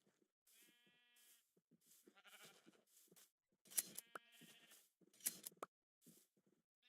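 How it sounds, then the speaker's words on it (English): Several short sheep bleats in a Minecraft-style video game come in bursts over a quiet background, with brief tapping and clicking sounds between them, all fairly close and clear. "I've got a normal sheep in it"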